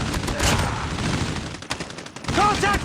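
Rapid loud gunfire in Call of Duty Mobile, 10v10 on the Shipment map, with dense bursts of automatic shots continuing throughout and voices faintly mixed in.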